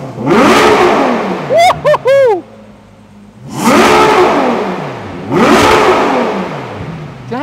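A Ferrari 812 GT's V12 engine free-revs toward 9,000 rpm, roaring up and dropping away in three loud bursts, with sharp whistling squeals between the first two revs.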